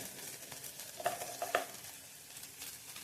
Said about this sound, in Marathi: भाजून घेऊया तेलात चांगला, म्हणजे कांदा टोमॅटो चांगला भाजला जातो